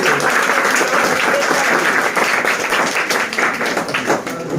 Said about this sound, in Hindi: मिस्टर उदय सर के लिए जोरदार तालियां हो जाए।